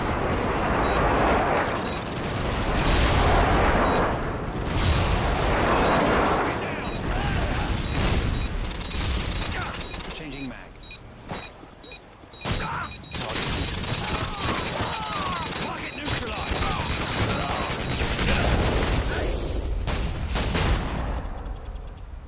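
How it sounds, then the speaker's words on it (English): Airstrike explosions and gunfire in Modern Warfare 2, loud layered bursts and rumbling blasts rolling on for much of the span, with rapid shots and occasional game voice callouts mixed in. "Friendly airstrike inbound."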